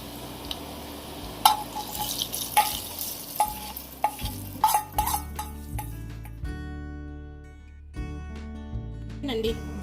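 Gongura (sorrel leaf) chutney being stirred and mixed in a pot, with steady scraping and stirring strokes close by, some clinks against the vessel, and faint music running underneath.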